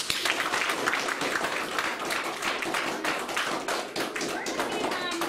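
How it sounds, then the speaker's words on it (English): Audience applause, a steady wash of many hands clapping filling the whole stretch at even loudness, with scattered sharper claps standing out. "Let's give Megan a round of applause."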